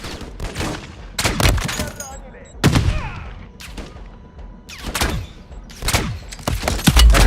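Rapid bursts of gunfire in MW3 Zombies crack out in irregular clusters, loud and close, with short pauses between volleys and a low rumble underneath.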